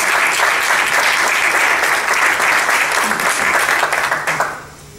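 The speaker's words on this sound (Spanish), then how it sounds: "Un aplauso para todos ustedes." An audience applauds poets at an annual Spanish-language cultural event, loud sustained clapping from a large crowd that fades out near the end.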